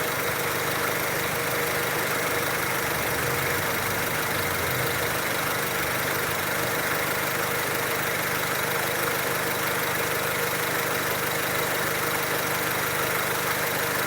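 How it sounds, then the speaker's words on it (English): A Mazda MX5 engine with a rich-running fuel fault idles steadily, a faint even hum with a slight tick, continuing without talk. "Let it get into a regular idle first."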